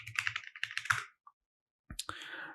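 Someone types a password on a computer keyboard during a Linux install, with a quick run of close keystroke clicks, a short silence, then a few more clicks.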